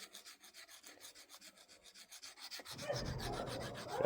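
A knife blade drawn by hand across a Victorinox diamond sharpener, giving steady rhythmic rasping strokes that grow louder and coarser partway through, close up with no talking.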